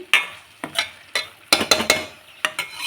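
A spoon scrapes through a tomato gojju as garam masala is stirred in, making a series of close, crisp strokes against the pan. The clusters are irregular, with a light sizzle between them.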